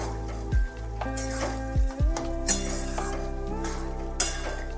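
Green peas curry sweetened with jaggery gets stirred in a pan, a few soft scrapes and clinks over a steady low hum, with occasional brighter knocks of the spoon against the metal.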